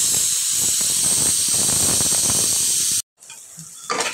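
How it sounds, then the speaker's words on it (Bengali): Potatoes fry with cumin powder in a pan, a loud steady hiss and sizzle for about three seconds before cutting out, then quieter crackling returns. "এই যে আমার আলুটা ঠিক এই পর্যায়ে ভাজা ভাজা হয়ে আসছে"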